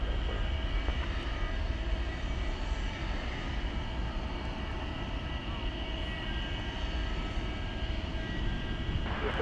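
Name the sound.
American Airlines Boeing 737-800 jet aircraft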